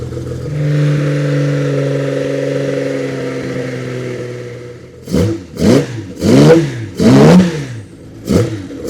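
A 1950s Jaguar D-Type racing car engine warming up, first a steady loud idle, then a series of sharp throttle blips revving up and falling back, each burst rising and dropping in pitch.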